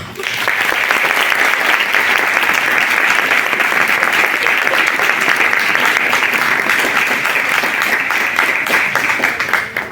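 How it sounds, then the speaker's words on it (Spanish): An audience at an academic conversation on women of ancient Rome applauds loudly and steadily for about ten seconds, a full, even wash of clapping that fades at the end. "para quien pido un fuerte aplauso"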